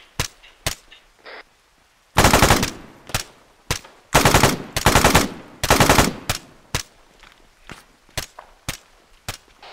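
Suppressive machine gun fire in a military shooter game: several single sharp shots, then three loud sustained bursts about a second long each, followed by more scattered shots.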